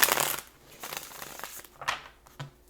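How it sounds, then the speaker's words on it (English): Tarot cards being shuffled by hand, a few soft riffling and crinkling bursts at close range, alone with no talk. "We're going to do one more shuffle."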